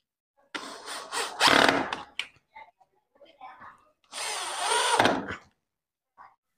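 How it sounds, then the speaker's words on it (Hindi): Power drill driving screws into a concealed door closer, two whirring bursts with short pauses and light tool clicks between, close up. "उसके बाद हम एक एक पेच इसके अंदर टाइट कर देते हैं"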